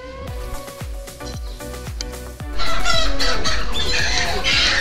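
Live chickens squawk and cluck loudly at a market in Chefchaouen, Morocco, rising into a dense, agitated chorus midway over rhythmic background music.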